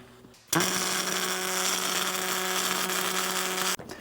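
Welding on a Jeep WJ coil spring tower: a close, steady crackling buzz starts abruptly and runs for about three seconds before cutting off, with no talking.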